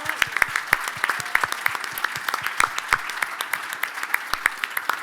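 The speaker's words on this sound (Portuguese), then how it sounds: "Uma salva de palmas para a Carminho." A small audience at a football club day event applauds Carminho, with fairly close, individually distinct claps in a steady, moderately loud patter.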